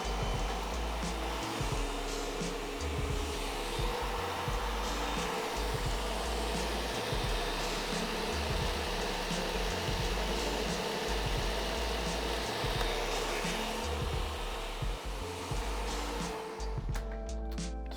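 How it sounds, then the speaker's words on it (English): A blender churns vegan mac and cheese sauce in a loud, continuous motor roar with low rhythmic pulsing from the thick mixture, close up and uninterrupted until it cuts off near the end. "let's blend it"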